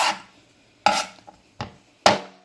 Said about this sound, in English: I'm gonna show you how I cut off my chicken foot toe.